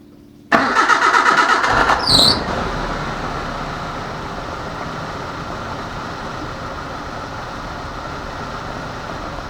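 Suzuki Samurai engine cranking and catching after a valve adjustment and valve cover gasket job, a loud starter whir for a couple of seconds before settling into a steady, close idle.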